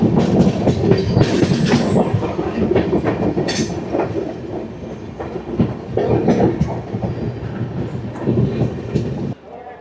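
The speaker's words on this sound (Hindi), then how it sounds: "ये ट्रेन अयोध्या कैंट से आकर दिल्ली की तरफ जा रही है और ये ट्रेन है अयोध्या एक्सप्रेस" Ayodhya Express train running past on the tracks in India, loud close rumble with clickety-clack wheel beats and occasional squeals, fading out abruptly at the end.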